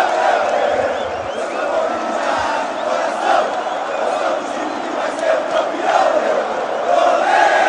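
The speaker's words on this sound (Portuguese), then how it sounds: "E aí para explodir a torcida do Corinthians na arena." Corinthians supporters in a stadium arena roar and cheer right after a home goal, a loud dense crowd eruption with shouts rising and falling throughout.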